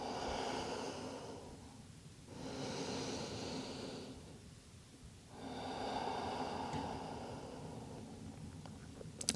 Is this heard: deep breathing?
yes